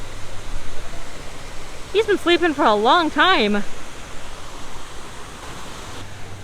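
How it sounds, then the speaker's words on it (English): Artificial waterfall at the Rainforest Cafe in Disney Springs, a steady broadband rush of falling water running throughout, with someone speaking briefly over it midway. "the waterfall for Rainforest is turned on"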